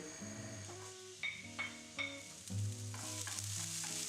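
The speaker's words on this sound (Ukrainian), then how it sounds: "Розігріту сковорідку наливаю олію і викладаю порізану цибулю." Chopped onions sizzle and crackle in hot oil in a preheated pan, with a few clinks of a utensil stirring against the pan.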